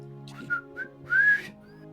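A person whistles to imitate a whistle echoing around a library: two short chirping notes, then a longer, louder rising tone, alone and close.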